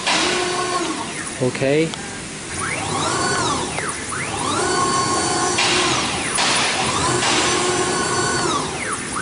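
A double-head CNC router from China running one spindle, with a loud, steady mechanical whine that rises and falls in pitch as the head moves back and forth, close up, with a brief spoken word near the start.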